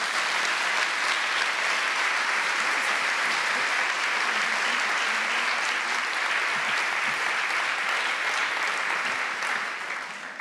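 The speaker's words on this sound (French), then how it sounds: "Je crois qu'on peut les applaudir." An audience at a colloquium claps warmly for about ten seconds. The applause is steady and full throughout, then starts to fade right at the end.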